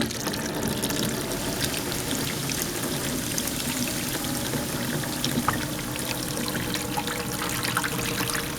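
Water pours steadily into a container, a continuous trickling splash that stays at an even level throughout, with no voices.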